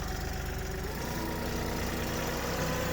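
A tractor engine runs with a chain tied to the back, ready to drag a storm-fallen load, a steady rumbling idle with knocking low throb, close and continuous with no voices.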